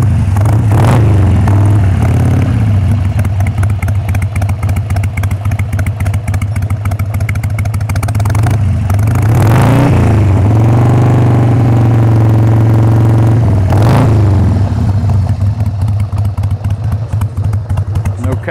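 A 2003 Harley-Davidson Sportster 883 Hugger engine idles steadily with a deep, rumbling V-twin lope, punctuated by a few sharp throttle blips that rev up and settle back down.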